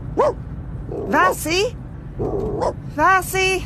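A dog barks and yips a few times close by, mixed with a person calling out between the barks.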